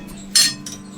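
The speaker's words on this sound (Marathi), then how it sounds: "थोडं याच्यावरती झाकण ठेवतो आपण." A lid set down on a cooking pot of chole simmering in hot water, one sharp metallic clink close by, followed by a fainter second touch.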